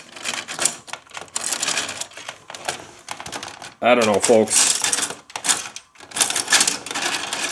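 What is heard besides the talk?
toy parking garage elevator mechanism clicking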